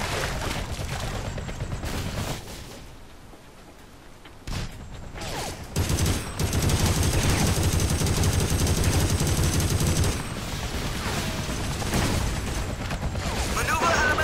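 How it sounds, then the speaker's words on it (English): Enemy gunfire rattles through a Battlefield 2 Modern Combat firefight, with dense, loud automatic bursts and booms that thin out briefly midway before surging back into sustained shooting. "They've been chopped down by enemy fire"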